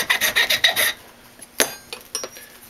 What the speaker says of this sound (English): I'm going to slowly file away